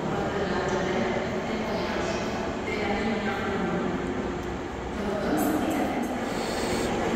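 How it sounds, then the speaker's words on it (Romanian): A train bound for Nehoiașu near Buzău, a steady loud rolling rumble of wheels on rails that swells slightly midway, heard close and continuous with a voice faintly underneath. "efectiv trenul spre Nehoiașu"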